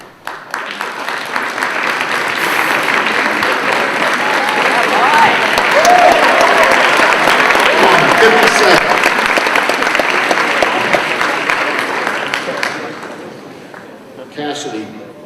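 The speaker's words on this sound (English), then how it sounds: "I'd like to ask those students to please stand and receive our applause." Sustained applause from a school convocation audience honoring student athletes named to all-star teams, steady dense clapping swelling over several seconds, then tapering off near the end.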